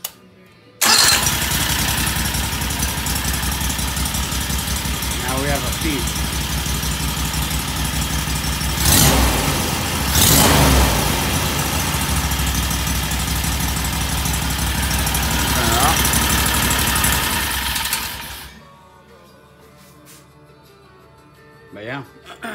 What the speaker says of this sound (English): now we're gonna turn on the engine